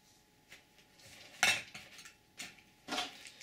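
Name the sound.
alcohol stove cook kit and fork being packed into a pot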